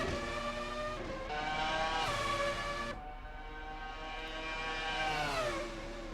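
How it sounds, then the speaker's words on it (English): High-revving Formula race car engines in the video game Assetto Corsa whine and shift pitch repeatedly, rising and dropping as gears change, loud and close with no talking. "So there's Formula cars back there"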